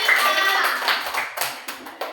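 Classroom clapping for a group of students during an arts lesson on imitating characters, a short burst of several hands clapping with a few louder claps trailing off near the end.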